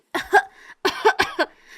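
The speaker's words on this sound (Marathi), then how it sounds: "पलंगावरती ती जोरात खोकलायला लागते" A woman in an animated Marathi story coughs loudly from the smell of chili powder, two harsh, voiced bursts of coughing close up, separated by a short pause.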